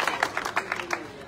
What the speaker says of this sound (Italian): Fate un applauso, ma che siete sincronizzati!